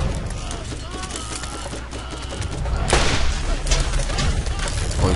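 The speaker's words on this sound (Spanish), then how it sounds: "¿Quién me está disparando allá?" Rapid bursts of gunfire from the video game Borderlands crackle and boom in a chaotic exchange, loud and close, with a voice speaking over the shooting.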